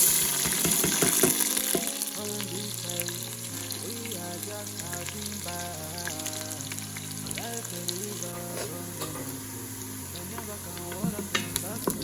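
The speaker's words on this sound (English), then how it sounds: "Two of the small onions has been cleaned and chopped, so I'm adding it to the oil." Two chopped small onions hiss and sizzle steadily in hot oil for a yam porridge with fish, a continuous close frying crackle with a few stirring scrapes and soft music underneath.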